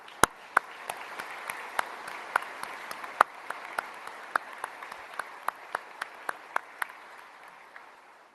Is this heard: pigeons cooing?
no